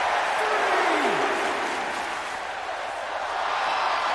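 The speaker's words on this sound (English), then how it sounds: "The crowd now with "This is awesome" chant." A wrestling crowd at a live pro wrestling show keeps up a loud, steady roar and chant throughout, dense and continuous with no clear breaks.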